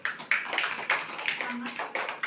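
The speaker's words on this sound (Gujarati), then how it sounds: "હાલો તાળી વગાડો બધાય" A group of young children clapping hands in a preschool activity, a string of quick uneven bursts of claps close by, with an adult voice speaking between them.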